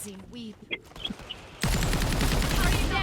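Sniper rifle and other gunfire in a Thai-language online shooter game: a quieter stretch of scattered shots and chatter gives way to dense, loud continuous firing in the second half.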